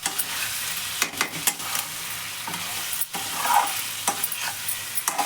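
Chicken with mint stir-fried in a pan for an Andhra-style chicken fry curry, giving a steady close sizzle broken by repeated scrapes and clacks of a spoon stirring through the pieces, with no talking.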